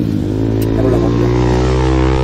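A manual-transmission off-road motorcycle runs in a loud, steady engine drone that stays close and unbroken throughout, with no speech over it.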